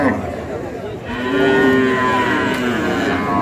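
A cow at a busy cattle market lets out a loud, close, drawn-out moo lasting a couple of seconds, over a low murmur of the surrounding crowd.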